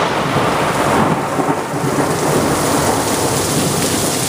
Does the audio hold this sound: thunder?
yes